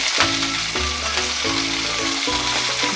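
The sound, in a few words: frying cumin, green chili, ginger, garlic and onion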